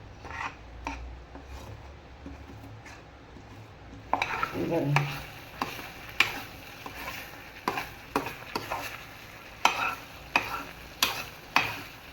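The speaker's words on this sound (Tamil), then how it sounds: "நல்லா இந்த மாதிரி கிண்டிட்டு இந்த ஸ்டேஜில் நம்ம தேங்காயை சேர்த்துக்கிட்டு" Mung dal filling for kozhukattai stirred in a pan with a spoon, giving steady scraping and rubbing strokes with sharper clicks against the pan, close up and without talk.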